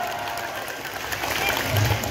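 An audience at a religious preaching gathering at the DKMB Al Kautsar mosque bursts into dense, continuous applause that stays steady and fairly loud throughout the short moment.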